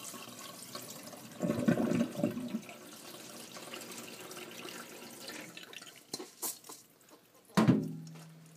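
Water runs and splashes from a kitchen tap while rice is washed, heard as faint, close bursts of splashing and trickling with short pauses, and a sharper gush near the end.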